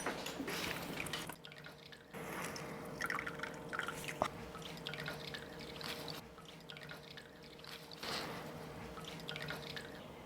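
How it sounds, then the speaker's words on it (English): Water drips and trickles close by as a block of tofu is squeezed, with a few distinct drops falling over a steady low background hum. "I'm going to squeeze out the water from this block of tofu."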